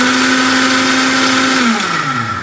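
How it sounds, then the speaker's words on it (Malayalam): Kitchen blender crushing eggs and garlic for homemade mayonnaise, a loud steady motor whine close up that slows and winds down in pitch near the end, with no talk. "എന്നിട്ട് നമുക്ക് വീണ്ടും ബാക്കിലേക്ക് ബട്ടൺ തിരിച്ച് ക്രഷ് ചെയ്ത് കൊടുക്കണം"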